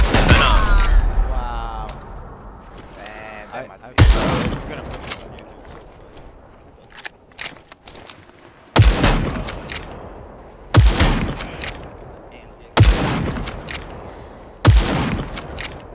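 Sharp, loud gunshots from a sniper in the game PUBG crack out one at a time at spaced intervals, each followed by a short decay, with quieter game sounds and brief noises between the shots.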